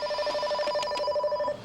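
A telephone rings in a toy play scene, a steady bright electronic ring with rapid repeated pulses, close and fairly loud, stopping near the end.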